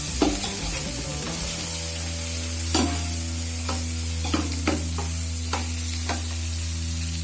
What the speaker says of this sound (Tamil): ஸோ வெங்காயம், பச்சை மிளகாய், அந்த காரம் சேர்ந்து நல்லா வதங்கணும்.